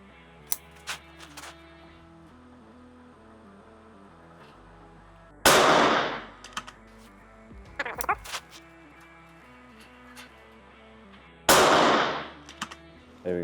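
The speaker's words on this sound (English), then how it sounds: "Gonna handle these last 2 shots." A Karma Red Panda PCP airgun fires on a benchrest, giving two sharp, loud cracks several seconds apart with quieter clicks and handling noises between them.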